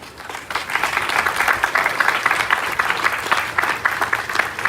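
A crowd applauds after a public reading of the Declaration of Independence, sustained close clapping that swells quickly and holds steady for several seconds.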